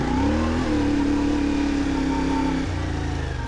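A CFMOTO 450MT motorcycle engine revs and accelerates up a climb, a loud, steady mid-pitched drone that rises slightly in pitch, then shifts as the rider changes gear.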